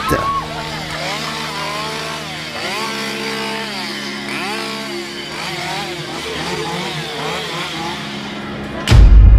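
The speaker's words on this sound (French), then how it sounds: "Thomas Hewitt, alias Letterface, vous attend dans la dernière salle munie de sa tronçonneuse" A loud, close chainsaw engine revs up and down continuously, its whine rising and falling, before ending in a sudden burst of noise, in a haunted house attraction at a theme park.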